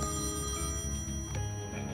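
An in-game telephone rings in Thimbleweed Park, a steady repeating electronic bell tone layered over continuous background music, fairly loud and without speech.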